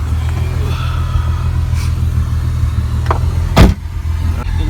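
Low, steady engine rumble heard from inside a moving car, with a few brief clicks and a thump partway through.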